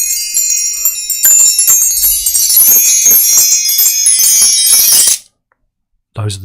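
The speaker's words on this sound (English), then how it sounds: "Those are the chimes." Bright, shimmering chimes ring loudly and continuously for about five seconds, tinkling and overlapping, then cut off abruptly into near silence before a brief low thump.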